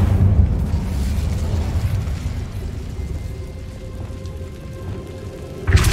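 In Hogwarts Legacy, an Incendio fire spell produces a loud, roaring burst of flame that rumbles and crackles steadily, then ends with a sharp thump.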